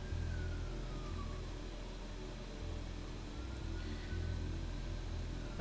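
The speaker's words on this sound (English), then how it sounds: "Ignore the police siren outside of my apartment." A police siren wails faintly in the distance outside an apartment, its rising and falling tone barely showing above a steady hum of room and street noise.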